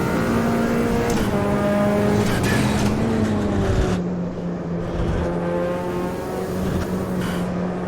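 A Mazda MX-5 engine revs under throttle, a steady loud drone climbing in pitch through a gear, easing off briefly, then pulling again close by with no talk.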